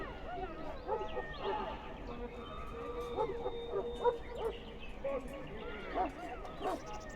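A Mabari war hound barks and yips in the castle kitchens of Dragon Age: Origins, short sharp barks and whimpers scattered over a steady murmur of background voices.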